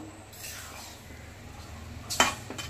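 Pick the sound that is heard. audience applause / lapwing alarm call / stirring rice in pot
stirring rice in pot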